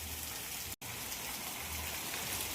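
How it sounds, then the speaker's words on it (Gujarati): Heavy rain pours down steadily in Porbandar, a dense, loud, even wash of drops with a brief cut in the middle. "અને વરસાદ કેટલો આવે છે એ પણ તમે જોઈ શકો છો."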